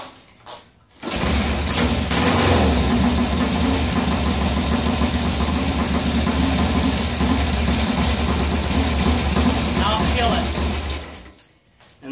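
A 1951 Triumph motorcycle engine fires on the first try and settles into a steady, loud idle with a dense rhythmic throb lasting about ten seconds before cutting back.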